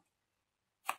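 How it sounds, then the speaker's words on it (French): Scissors make one crisp, close snip while trimming a paper glue tab at an angle for a travel-journal pocket, after near silence. "Je coupe en biais les onglets de collage."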